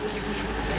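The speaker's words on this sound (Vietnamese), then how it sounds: "Mình sẽ lấy cái vòi nước từ giếng" Steady rushing well water runs continuously from a hose, close and fairly loud, like a strong stream splashing out without pause.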